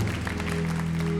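Crowd at a live concert applauds the Corale Antonio Vivaldi youth choir of Sassari, brisk clapping layered over sustained low musical tones still sounding underneath.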